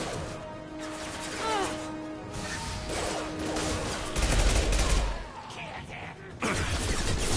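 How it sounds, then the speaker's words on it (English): Impact shot gunfire and crashing impacts from the video game Mass Effect 2, heavy bursts and booms mixed with game music and effects, with a voice speaking throughout. "Firing an impact shot."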